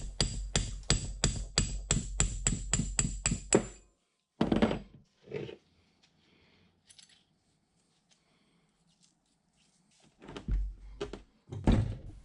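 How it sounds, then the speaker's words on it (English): Hammer striking a brass drift to drive the half nut cam out of the apron of a 1960 South Bend lathe: a rapid string of about a dozen sharp metallic blows, then a pause, then a few more heavy strikes, close and loud. "use a brass drift now to drive the half nut cam out the back of the apron"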